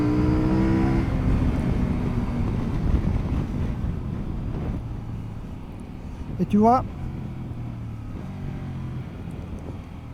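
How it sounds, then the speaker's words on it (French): A CFMOTO 800 MT Touring motorcycle engine droning while riding, under steady wind noise, with a quick rising rev sweep of a gear change partway through, and someone talking briefly. "c'est super agréable, le bruit du moteur, le quick shifter, il est hyper efficace"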